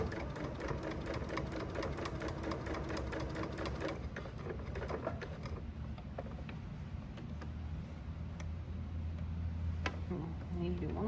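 A sewing machine stitching a messenger bag runs in rapid rhythmic bursts, clattering steadily at first, then slowing and stopping, followed by quieter handling clicks and a low hum; speech occurs faintly at moments.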